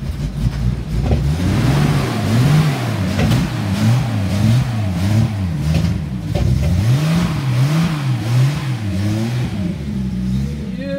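A fully restored 1976 Datsun 280Z engine revs loudly nearby, climbing and falling in repeated throttle blips over about ten seconds, with no speech.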